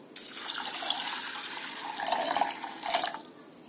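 Water pouring into a pressure cooker holding lentils, a short close splashing stream that swells and fades in bursts, heard alone.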